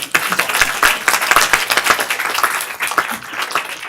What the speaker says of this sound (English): if you could all just join me in just a round of applause